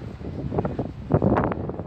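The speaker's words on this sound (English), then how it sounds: "it is windy at the top here because I'm high up." Steady wind buffets and rumbles across the microphone on a high hilltop, with low gusty roaring and light rustling throughout, no voices.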